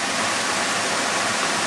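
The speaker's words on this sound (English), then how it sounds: "A lot of water coming off the mountain." Water rushes off a mountainside after heavy rain, a dense, steady roar like a waterfall, close and constant for a brief moment with no voices.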